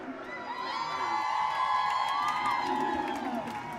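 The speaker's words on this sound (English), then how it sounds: "this crowd here is lit." A crowd cheers and whoops at a high school homecoming football game between the Erie Tigers and Broomfield Eagles, a loud sustained roar with high shouts rising and easing over a few seconds.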